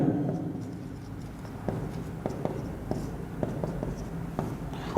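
Chalk or pen marks on a board during a calculus lecture, a series of short scratchy strokes and taps in an irregular rhythm, fairly close and quiet, with no talk.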